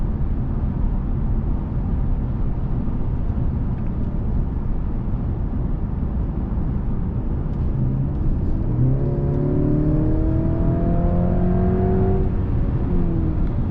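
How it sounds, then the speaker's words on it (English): A 2022 Mercedes C300 with a 2.0-liter engine accelerates from inside the cabin, a steady low road and engine rumble that rises into a climbing, revving whine over the final seconds. "So really this picks up speed really well."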